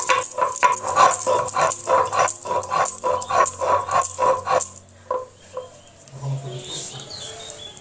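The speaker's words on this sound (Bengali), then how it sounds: "এবার আমি শিলে আদাগুলোকে বেটে নেব।" Chopped ginger pieces ground on a shil grinding stone, a steady rhythmic scraping and rattling of stone on stone for about five seconds before fading to quiet.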